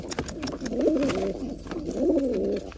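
Two rounds of soft, throaty cooing from domestic high-flyer pigeons kept in a home loft, close and fairly quiet, with light background rustle and no talk.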